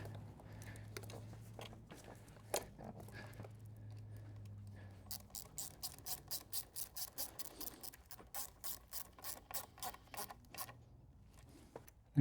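Socket ratchet turning 7mm hose clamps on a Mercedes S65 AMG engine, first a few scattered clicks, then a long steady run of rapid, evenly spaced ratcheting clicks, close and clear with no talk.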